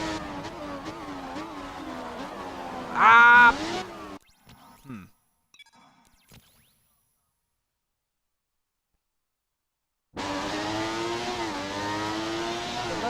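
A Formula 1 car engine in the video game F1 2017 revs and shifts through gears, whining higher, then cuts out into near silence before roaring back steadily; a brief exclamation breaks in.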